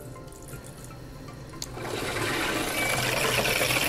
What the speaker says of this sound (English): Turn my water on, you can hear it kind of filling up in there, see it coming out.